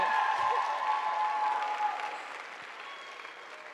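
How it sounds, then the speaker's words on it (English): Audience applause after a performance at a student union cultural show, starting full with some cheering and tapering to a softer patter toward the end. "Can I get another round of applause for them, please?"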